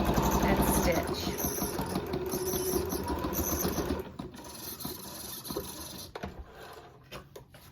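A sewing machine stitches a non-medical fabric face mask with a fast, steady whirring patter that runs close and loud, then drops away to quieter handling noise partway through.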